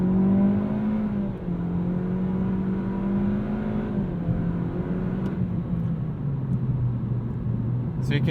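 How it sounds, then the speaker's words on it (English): A 2020 Toyota Corolla with a CVT accelerates at full throttle in sport mode. The engine drone rises and then drops in simulated stepped shifts, heard steadily from inside the cabin while a voice talks over it. "So you can hear that the CVT is doing kind of some animated shifts"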